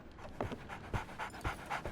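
A dog pants rapidly in a video game, quick rhythmic breaths repeating close up and fairly quiet, with no talk over them.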